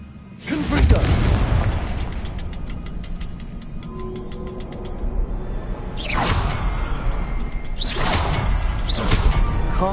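Confringo fire spells burst in the wizarding game Hogwarts Legacy, with several loud booming explosions and whooshes: one early blast, then a cluster of three later, over background game sound.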